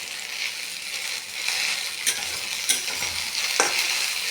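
Okra and potatoes fry on a low gas flame with a steady close sizzle, and a utensil stirring and scraping through the pan makes occasional sharp clicks. No voices are heard.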